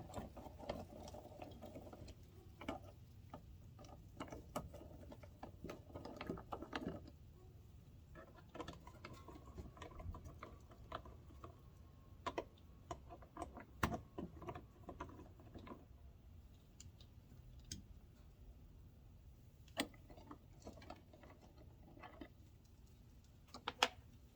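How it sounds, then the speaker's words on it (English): Two small screws backed out of a license plate lens housing on a Toyota 4Runner with a Phillips screwdriver, giving faint, intermittent ratcheting clicks and scrapes close by, with no talking. "All you need is a Phillips screwdriver. Just remove these two screws."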